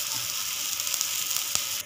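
An adai dosa sizzles in oil on a pan just after being flipped, a bright, steady hiss with a single faint click near the end.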